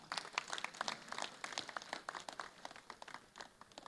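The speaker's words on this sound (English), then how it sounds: "Please clap for her." Audience clapping at a Kaduna chapter inauguration ceremony for a new executive council, a short burst of scattered, moderately loud hand claps that thins toward the end, with no speech.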